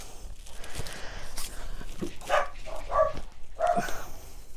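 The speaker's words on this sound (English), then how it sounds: "Excuse the dogs." Several short barks and yips from nearby dogs, irregular and overlapping, with some shuffling noise between them.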